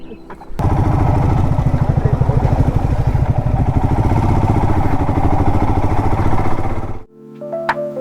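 A Royal Enfield Himalayan 411 motorcycle thumps loudly and close by, a steady single-cylinder rumble that holds for several seconds before cutting off abruptly.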